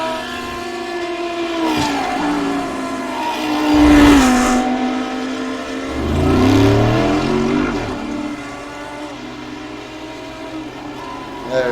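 Simtek GT3 race cars in a sim racing game run nose to tail past the viewpoint, their engines droning and swelling twice as they go by, with a commentator talking over the sound.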